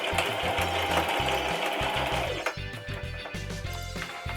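Close, loud electric sewing machine stitching two fabric pieces together for a child's graduation cap, its rapid mechanical chatter running steadily, then stopping and restarting in shorter bursts.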